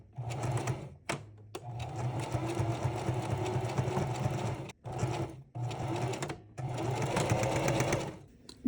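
A sewing machine stitches a diagonal seam in fabric for reusable gift wrap, running in steady, close bursts of rapid whirring with short pauses between runs.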